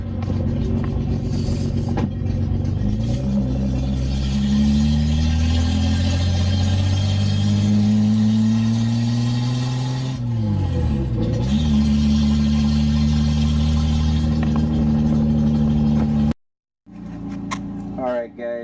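A Datsun 280Z with an open header roars while driving, its loud, raspy exhaust rising through the gears with a brief dip at each shift. The engine note stays close and continuous, with a person talking over it.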